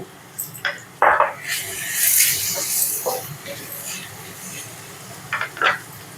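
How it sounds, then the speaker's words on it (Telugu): Ridge gourd pieces with onions and turmeric fry in a pan over a medium flame, giving a steady soft sizzle broken by a few louder scraping stirs. "మీడియం ఫ్లేమ్ పెట్టుకొని బీరకాయ ముక్కలను వేయించుకోవాలి"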